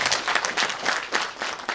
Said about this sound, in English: Can we have a round of clap for them?